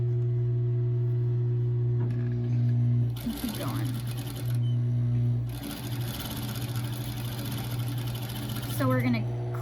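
A home sewing machine stitches a fabric medical face mask in steady bursts, its motor humming and stopping as the corner is turned with the needle down, while a voice talks over the work close by.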